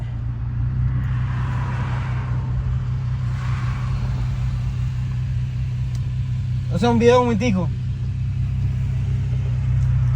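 A Volkswagen Golf MKV R32 rumbles along with a steady low engine and road drone inside the cabin, while a voice briefly speaks over it.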